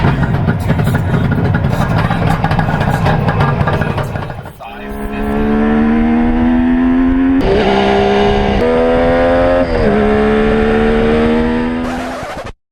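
A Suzuki GT550 three-cylinder two-stroke motorcycle engine runs loudly, a harsh ragged burble that gives way to rising, wailing revs with several pitch climbs and drops, close and dominant.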